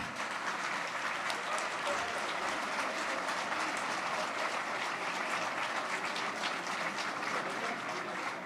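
A large audience at a New Year's greetings event for François Sauvadet, president of the Côte d'Or department, applauds in a sustained, dense wash of clapping that holds steady and loud from start to finish.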